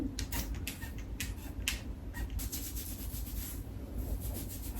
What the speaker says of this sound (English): Just a tiny bit on top and rub it in.